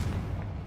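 A blasting spell called Confringo goes off in the video game Hogwarts Legacy, a short, loud burst with a deep, booming rumble.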